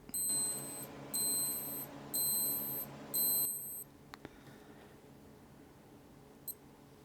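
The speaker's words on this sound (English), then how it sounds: "But this is kind of a fading tone that goes from loud to quiet" A Casio G-Shock G-7800 (module 3163) watch alarm sounds in four short high-pitched bursts, each a cluster of beeps, growing from quieter to louder, then stops, leaving faint clicks.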